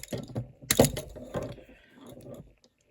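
Antique handcuffs are opened with a screw key, giving close metallic clicks and a ratcheting turn, with one sharp snap followed by softer mechanical scraping of the bolt drawing back.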